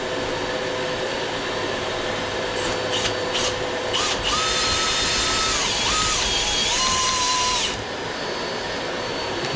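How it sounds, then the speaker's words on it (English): Power drill spinning chimney sweeping rods inside an old brick chimney serving a stove, a steady close whine with rising and falling pitch shifts as the rods meet resistance, running continuously without talk. "Feel the resistance in the drill, it's trying to twist."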